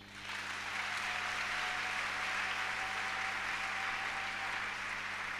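A church congregation applauds to acclaim Jesus, steady dense clapping that starts within the first instant and holds loud and even throughout, with a faint sustained tone beneath.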